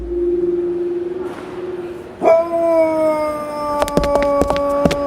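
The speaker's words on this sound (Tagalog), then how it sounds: "Salbahing aso yun ah! Abay, sige sa alulong." A dog lets out a long, rising howl that holds a steady drawn-out pitch, stopping briefly and then resuming, with a few short sharp knocks near the end; no talking.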